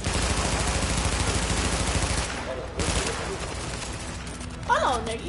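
Rapid pistol gunfire in a shooter video game, a dense loud burst of shots for the first two seconds, then quieter game noise with talk over it.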